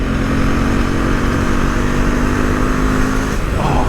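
A Husqvarna Svartpilen 401 motorcycle engine roars continuously under hard throttle, loud and close with heavy wind rush, holding a steady droning pitch for the whole stretch.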